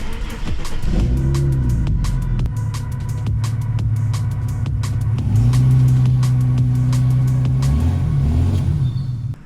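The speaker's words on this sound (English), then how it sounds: "This thing's just got a massive hole in the muffler and it's gonna stay like that." Ford AU Falcon engine with a holed muffler revving hard, loud and close, rising and falling in two long surges with a rough, blatty exhaust tone and no talking.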